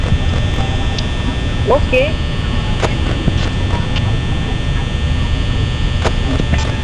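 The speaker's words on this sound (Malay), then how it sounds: "Kipas yang paling kuat suara dia." A constant loud fan hum drones throughout with a steady tonal whine, a brief spoken word and a few small clicks on top, from the game Five Nights at Freddy's 4.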